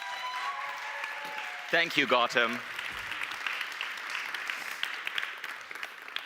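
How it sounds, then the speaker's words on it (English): An online AI summit audience claps to welcome a speaker, a steady wash of applause before and after a brief spoken thanks, continuing at moderate level to the end. "Give him a huge round of applause."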